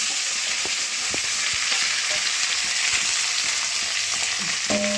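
Onions and shallots sauté in hot oil for a mutton roast, giving a steady close sizzle and frying hiss with occasional stirring clicks throughout, no talking.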